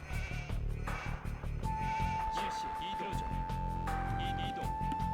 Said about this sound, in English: Bring in the sheep, don't kill them here.